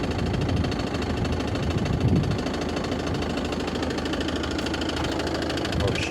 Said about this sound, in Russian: О, а такой стук, когда двигатель закрываешь капотом.